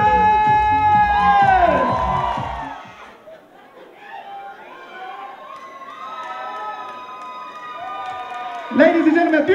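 An audience cheers, whoops and applauds for a drag salute-to-divas dance performer at the Howard Theatre in DC, a loud crowd roar that dips midway and then swells again near the end, with voices shouting throughout.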